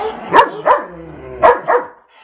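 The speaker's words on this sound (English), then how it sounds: "The smallest one makes the biggest noise. And then old Stormy. So that's our crazy pack of dogs" A small pack of family dogs barks in two close pairs of sharp, loud barks, with short gaps between them and no talking.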